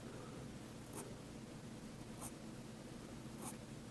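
A nib pen scratches crosshatching lines onto paper, quiet continuous scraping with a few brief sharper strokes spaced about a second apart, close and faint.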